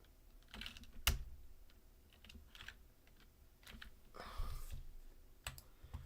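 Fingers typing on a computer keyboard in a home streaming setup, with scattered bursts of soft key clicks and one sharper tap near the start, close and quiet, and no one speaking.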